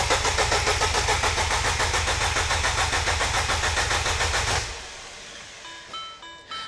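A Mini car engine cranking without firing, ignition leads removed: a loud, steady rhythmic whirring churn of the starter for about four and a half seconds, then it stops and leaves a quieter mechanical clatter.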